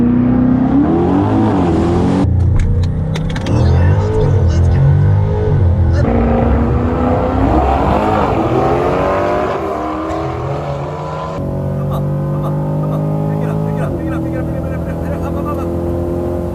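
A C8 Corvette accelerates hard off the line in a drag race, its engine roaring loud and close through rising gear pulls with brief drops at each shift, continuous for the whole run.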